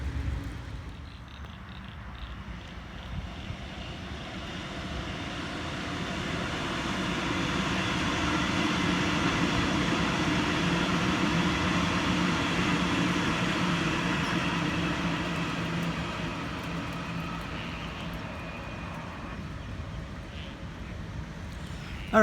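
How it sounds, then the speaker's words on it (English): A Sydney Trains Richmond service passes through a country-area station, a broad steady rumble that swells and then eases over about twenty seconds. "The last train I'll film, which will be the next one coming through here, will be a Richmond service."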